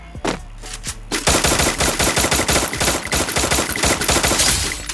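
Free Fire gunfire against enemies: a few separate shots open, then a rapid sustained burst of automatic fire rattles on loud and close for several seconds, with no talking.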